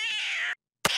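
A cartoon street cat gives a loud, drawn-out meow up close, then a brief silence before a second yowl starts.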